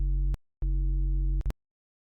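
A synthesizer sine wave with added harmonics, heard as two steady sustained tones with a buzzy layered timbre, each cut off sharply, followed by a short blip and then silence.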